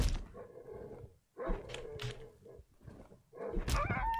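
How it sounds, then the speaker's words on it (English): A dog in the video game Darkwood gives a few short barks and whimpers in separate bursts, fairly close and moderately loud, with quiet gaps between them and no talking. "I found a dog!"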